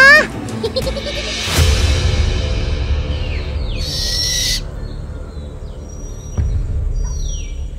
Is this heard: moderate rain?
no